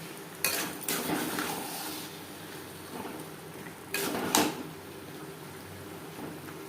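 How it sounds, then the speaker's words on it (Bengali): Chickpeas are stirred with spices and mutton fat in a cooking pot, with a few sharp metal clanks and scrapes of a spoon against the pot in two short bursts over a steady low background. "মশলা ও চর্বি চানার সাথে বেশ ভালো করে মিক্সড করে দেব"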